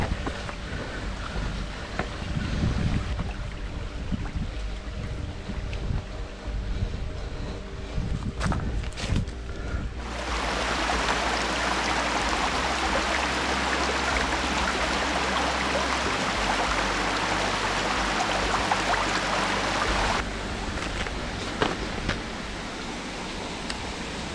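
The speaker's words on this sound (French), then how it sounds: "Cette cascade elle est super bien accessible." A waterfall at an easily reached rocky site, its steady broadband rush of falling water loud and continuous, with some footsteps and handling noise early on before the roar swells and fills the scene.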